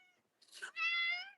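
A house cat gives a single clear, drawn-out meow close by, preceded by a short rustle, with no talking over it.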